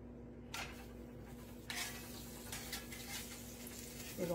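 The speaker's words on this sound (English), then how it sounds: "we're going to start frying" Butter sizzles softly in a small pan on a hot stove eye while red snapper cooks, a faint, steady hiss broken by a couple of sharp clinks of the pan.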